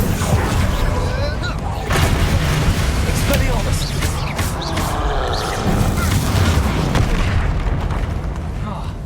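Fiery explosions from the Confringo spell in Hogwarts Legacy boom and rumble loudly and almost continuously, with repeated bursts layered over dense battle noise.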